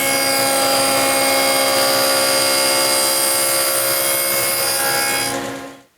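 A table saw fitted with a dado blade cuts a tenon shoulder in wood for a traditional workbench, giving a loud, sustained whining roar that holds steady and then spins down abruptly at the end.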